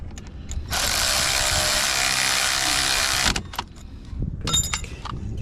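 A ratchet wrench clicks rapidly and steadily for about three seconds while tightening a bolt during a front brake pad replacement on a 2016 Mini Cooper S, followed by a few softer metallic clinks and handling noises.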